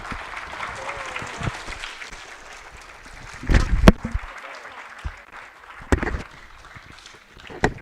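A crowd claps for a musician at a Torah memorial and tribute evening, a sustained round of applause with a few sharper claps and knocks, while a voice talks over it.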